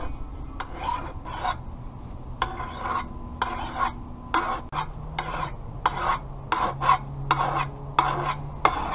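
A hand file scrapes along the edge of a lawn mower blade being sharpened, making about a dozen crisp, evenly spaced rasping strokes close up with short pauses between them.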